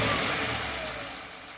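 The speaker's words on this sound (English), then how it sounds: "let's go ahead and start the car up and see if we fix the problem." The engine of a Porsche Cayenne Turbo with a vibration fault, just fitted with new engine mounts, runs as a loud mid-pitched roar that slowly fades over a second and a half, with no speech.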